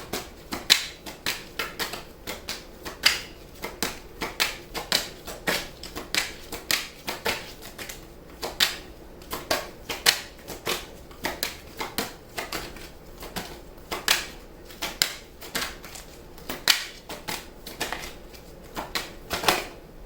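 Tarot cards are shuffled by hand in a steady run of crisp riffling snaps and flicks, close and fairly loud, lasting for about twenty seconds with no talk.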